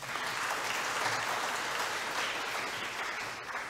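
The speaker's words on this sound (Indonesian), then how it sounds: "Tepuk tangan dulu untuk mahasiswa kita." A hall full of people gives sustained applause for graduating students at an academic ceremony. The clapping is steady and dense and sounds somewhat distant.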